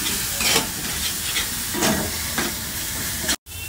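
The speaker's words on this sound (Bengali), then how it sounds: "দিয়ে খুব ভালো করে মশলাটাকে কষিয়ে নেব, খুব সুন্দর করে কষাবো।" Masala for egg curry being stir-fried in a pan, a steady sizzle and hiss with intermittent scraping stirs, close and continuous.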